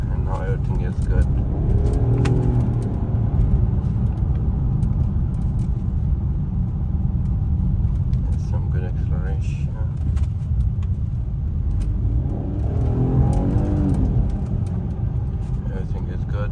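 A Lincoln MKX with the 2.7 EcoBoost engine, just repaired after a low-power fault, drives with a steady loud road and engine rumble throughout and two brief rising revs, carried under someone talking.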